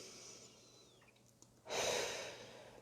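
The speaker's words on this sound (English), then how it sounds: "take a deep breath in, kind of let it go" A deep breath during a guided meditation: a quiet, drawn-out inhale followed by a louder, airy exhale that swells near the end, close to the microphone with no talking.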